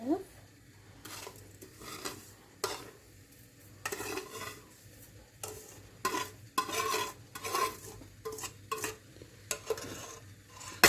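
A spoon scrapes and clinks in a bowl as kadayıf is stirred with a tablespoon of tahini, irregular close rubbing strokes and taps with a faint background hum and occasional quiet voices.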